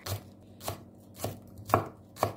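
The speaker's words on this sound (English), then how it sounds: "Now chop the stem of the spring onions and put together with the garlic." A knife chops spring onion stems on a board in five crisp, evenly spaced strikes, close and distinct, with quiet pauses between them.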